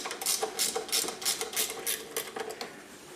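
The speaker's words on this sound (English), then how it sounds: "We will loosen all 3 bolts." A ratchet wrench steadily clicks through quick, even bursts as 13 mm bolts are loosened on a wheelchair frame, quiet and close with no talking.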